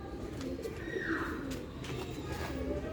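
Sialkoti pigeons coo softly in low, throaty bursts, several calls overlapping against a quiet background hum.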